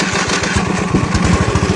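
A tractor engine runs close by with a fast, steady putter of rapid firing pulses, loud and continuous, with no talk.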